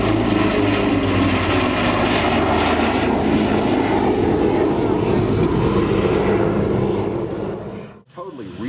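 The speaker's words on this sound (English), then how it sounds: "Jeff Bourbon and the Yak 110" A Yak 110 aerobatic airplane flies at the Oregon International Airshow, its loud engine roaring continuously and close before fading off near the end, with an announcer's voice over it.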